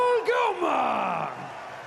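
A crowd at the STIHL Timbersports Team World Championship 2024 cheers for the Belgian team, with loud yells and whoops in a short burst that fades within two seconds.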